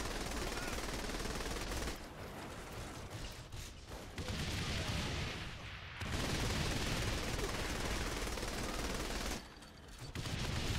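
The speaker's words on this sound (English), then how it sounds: "a chain gun guy. Minigun." Minigun firing in Saints Row: The Third, a loud continuous roaring rattle of rapid shots that briefly dips and resumes over several long bursts.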